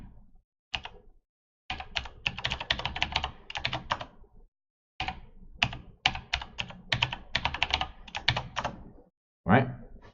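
A new database password is typed on a computer keyboard in quick, close clattering bursts of keystrokes, separated by short silent pauses, with a final isolated tap.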